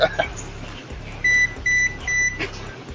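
A microwave oven beeps three times in a steady row, each tone clear and fairly loud over background chatter and hum picked up on a live game-stream microphone.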